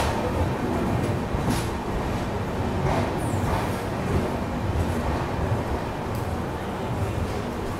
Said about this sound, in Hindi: हैदराबाद की ओर आने वाली मुंबई हैदराबाद एक्सप्रेस